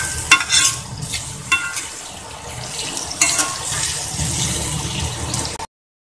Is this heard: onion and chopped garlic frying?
yes